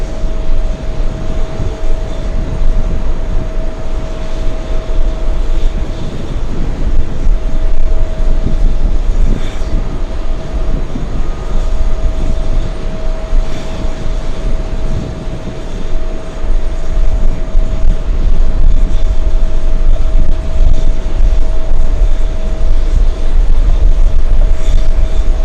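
Aer Lingus airliner at New York's JFK airport, thought to be arriving from Shannon, Ireland, heard as a steady, loud jet engine roar with a constant whine, continuous for the whole stretch with no talk.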